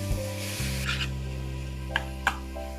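Spinach and coconut stir-fry being stirred in a pan over a medium flame, giving a steady soft sizzle with scraping strokes and two sharp clinks of the utensil against the pan near the end, with no voices.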